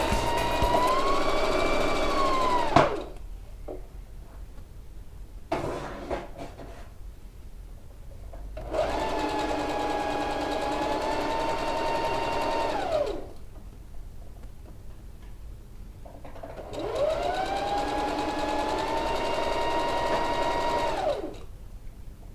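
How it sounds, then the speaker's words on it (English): A sewing machine stitches the side seam of a wrap dress at a quarter inch with backstitching at each end. It whirs in three long runs, its motor pitch rising and falling, with quieter pauses in between. "I'm just stitching down, simple stitch, 1/4 inch, and I'll back stitch at the top and the bottom."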